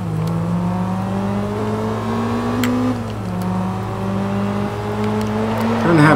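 A 2003 Toyota APR Performance Celica GTS, front-wheel drive, drifting in Forza 2: the engine holds a loud, steady whine that climbs, dips at a shift and climbs again, with tyre noise swelling at the end.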